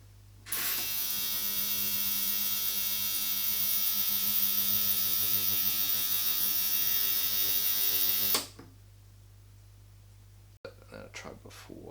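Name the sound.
cheap eBay ultrasonic cleaner running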